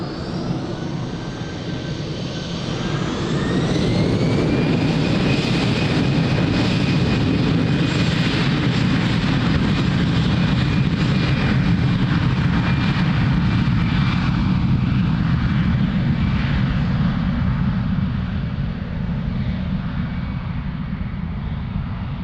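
An easyJet jet airliner takes off from runway 02 at Lisbon Airport, its engines rising to a loud, sustained roar with a climbing whine that then holds steady and broad for the rest of the run.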